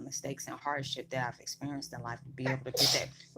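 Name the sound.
sneeze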